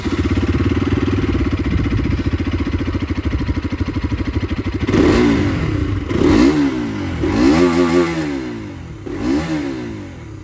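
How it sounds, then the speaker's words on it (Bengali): A Bajaj Pulsar RS200 200cc motorcycle idles with a steady, throbbing exhaust note, then is revved several times in sharp, rising bursts that fall back between blips, loud and close. "এইবার আপনাদেরকে আমি যেটা শোনাতে চাইবো সেটা হচ্ছে এক্সজস্টের সাউন্ডটা"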